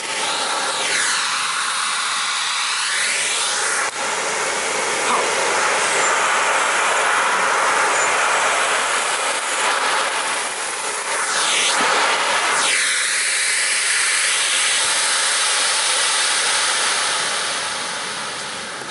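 A vacuum cleaner fitted with a bare-floor wood nozzle is pushed over an area rug, giving a loud, continuous motor roar close by, with whooshing swells and pitch sweeps as the nozzle moves back and forth.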